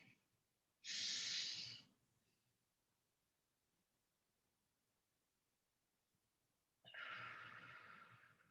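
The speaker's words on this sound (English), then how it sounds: "we'll start by breathing in for 4 counts." Slow, deep guided breathing during a group exercise, one long breath of about a second followed by a pause of several seconds, then another long breath, airy and close.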